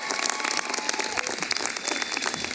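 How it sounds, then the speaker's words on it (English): Audience applause at a university commencement ceremony for graduate studies: dense, steady clapping from a large crowd that holds evenly loud throughout. "May we have one more round of applause also for Ashley"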